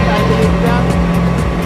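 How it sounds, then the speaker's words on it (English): A Volkswagen Polo R WRC rally car's engine drones loud and close from the cockpit, a steady buzzing roar with a regular pulsing beat through the short stretch. "We're going to accelerate again."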